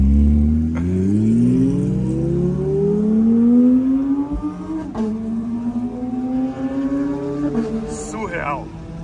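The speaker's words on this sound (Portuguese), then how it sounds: "Como ela é biturbo, você consegue escutar a turbina dela girando" McLaren 570S twin-turbo engine revving, its pitch climbing and holding in a smooth rising drone with turbo whine, close and loud, while someone talks over it.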